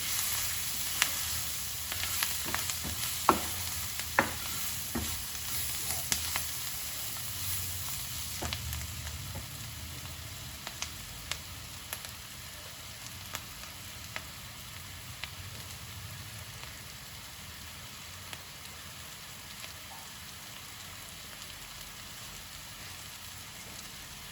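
Sliced onions fry in a pan with spices for pumpkin halwa sabzi, a soft steady sizzle with frequent stirring clicks, busier at first and settling into a quieter crackle.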